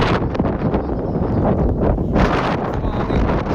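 Strong gusting wind at an open-air kite-flying spot, loud and continuous, buffeting the microphone with rough roaring rumble throughout, with faint voices mixed into the gusts.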